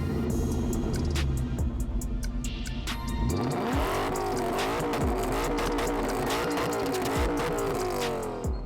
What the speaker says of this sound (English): we've got the back boxes that have recently been cut out and they are sounding